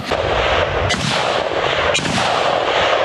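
A loud, sharp sniper rifle gunshot cracks out near Bakhmut, then another blast follows about a second later over steady, heavy noise.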